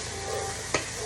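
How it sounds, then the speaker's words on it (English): Onions sizzle in a pan for a from-scratch fresh tomato sauce, giving a steady close hiss broken once by a short scrape of stirring. "at the same time stirring up my onions"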